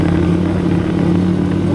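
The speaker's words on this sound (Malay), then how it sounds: "ni yang bunyi enjin motornya" Cub cross motorcycle engine running steadily in a field, a continuous close droning hum with no clear revving peaks.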